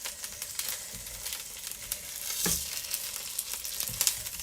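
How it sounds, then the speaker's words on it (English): Salmon sizzles steadily in a hot pan, a close, even crackle and spit with occasional louder pops and the clink of a utensil. "when you're cooking salmon, can you see it just cooking up the side of it?"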